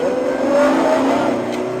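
A car engine revs loud and close, holding a steady high-pitched whine with slight rises in pitch and no talk over it.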